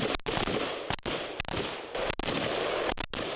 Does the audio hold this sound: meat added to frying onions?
no